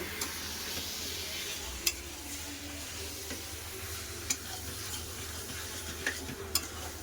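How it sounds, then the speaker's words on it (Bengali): Meat browning with spices in oil in a pan for a Bengali potato-meat curry, giving a steady close sizzle with occasional sharp scrapes and clinks of a spatula against the metal. "মশলার সাথে ভালো করে মাংস কষে"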